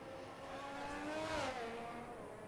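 An F1 2022 race car in the video game spins around at Abu Dhabi, its engine note droning steadily with a pitch sweep and a brief tire-scrub swell in the middle, faint and distant.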